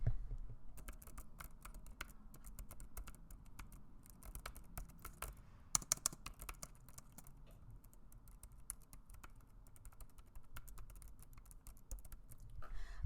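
Quiet, steady keyboard typing with rapid soft key clicks continuing throughout, close by, with a few slightly louder taps midway.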